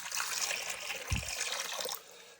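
Reverse osmosis water pours into a frog enclosure with a steady, soft trickling splash for about two seconds, close and alone, then quickly tapers off.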